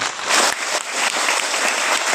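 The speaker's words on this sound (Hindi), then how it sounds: "तालियां बजाएंगे" A church congregation claps together during a sermon, a loud, sustained burst of many hands with slight surges, close and alone without talk.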